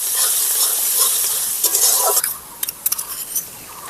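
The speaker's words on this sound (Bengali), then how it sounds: "এবারে আমি এর মধ্যে দিয়ে দেব রসুন বাটা।" Garlic paste sizzles as it hits browned onions in a hot pan, with a bright continuous frying hiss, then a few sharp clinks and scrapes of a utensil stirring against the pan.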